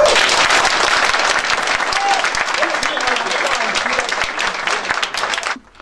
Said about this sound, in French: On applaudit ça, s'il vous plaît.